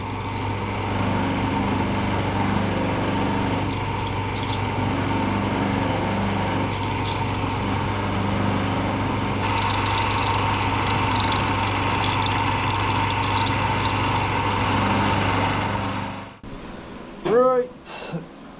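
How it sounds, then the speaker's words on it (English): A polishing motor works on Norton motorcycle bobber parts in a workshop, with a steady mechanical drone that shifts slightly as parts are worked. After about sixteen seconds it winds down, followed by a few brief knocks and scrapes. "Right, bit of polishing."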